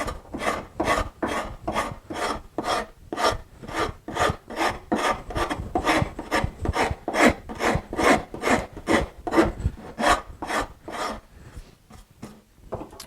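A wood rasp scrapes across a wooden sculpture in quick, even back-and-forth strokes, each stroke a close, distinct rasp in a steady rhythm with no talking.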